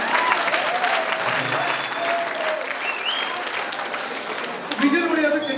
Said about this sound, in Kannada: ಮತ್ತೊಂದ್ಸರಿ ಚಪ್ಪಾಳೆ ತಗೊಂಡು